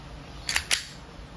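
A WE Airsoft Bulldog gas blowback pistol with a long magazine fires two quick sharp cracks a fraction of a second apart, each with a brief metallic clack of the slide, close and loud.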